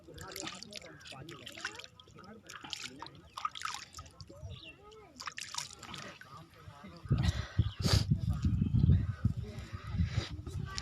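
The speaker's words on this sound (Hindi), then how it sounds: "चलो नदी में धोता हूँ आज हाथ।" Hands washed in river water outdoors, with soft trickling and splashing under ongoing talk, then louder sloshing and rushing water over the last few seconds.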